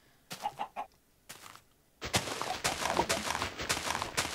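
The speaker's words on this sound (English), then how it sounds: "Oh, I heard chicken." A Minecraft chicken clucks in short, soft bursts, followed by a denser stretch of louder clucking and game sounds, with no talk.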